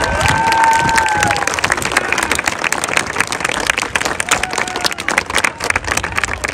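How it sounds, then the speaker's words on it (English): A graduation crowd in a large hall applauds and cheers for educators, loud sustained clapping with shouts and whoops, a few high whistles early on, continuing throughout. "Let's give these educators a round of applause."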